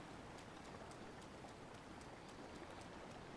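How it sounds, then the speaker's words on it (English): Heavy rain pours steadily in Zelda: Breath of the Wild, a dense, even hiss with faint scattered droplet ticks, continuous and without speech. "that rain is too freaking aggressive"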